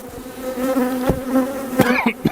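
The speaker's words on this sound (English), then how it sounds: "first super's got a lot of bees up in it" Honeybees hum densely and steadily in a crowded hive super during a Demaree hive inspection, a close, continuous buzz with a few sharper passing whines and brief knocks.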